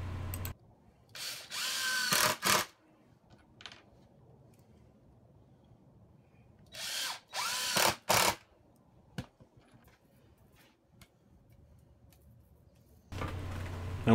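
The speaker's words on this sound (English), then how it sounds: "Now when I go to put the screws in, I'm going to leave about 4 inches or so" A power drill drives screws into a rolling shop cart frame, with three loud whirring bursts separated by quiet handling noises and faint clicks, close up and with no speech.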